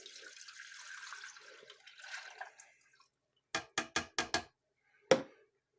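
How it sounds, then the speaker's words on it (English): Water pours into a Cocomotion appliance in a close, splashing stream for a few seconds. A quick series of sharp plastic clicks follows, then one last louder click. "We're going to pour the water in."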